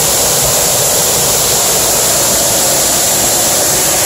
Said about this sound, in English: Hope you enjoyed walking behind a waterfall.